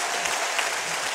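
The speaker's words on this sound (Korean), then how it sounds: "총장님 박수 한번 해주세요." An audience at a lecture breaks into brief, dense applause, a close wash of many hands clapping at once.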